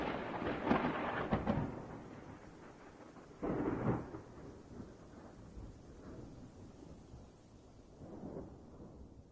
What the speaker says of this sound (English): I might even throw a little lightning and thunder sound effect in there